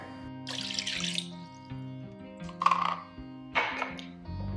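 Water from a kitchen tap runs into a measuring cup in three short bursts, hissing and splashing close by over a steady tonal background hum.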